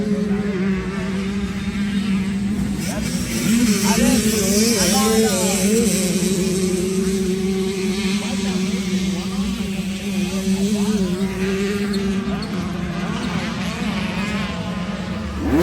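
2009 Yamaha YZ250 two-stroke dirt bike with an older motor, a loud buzzing engine that idles and blips up and down at a two-stroke gathering, with people talking nearby.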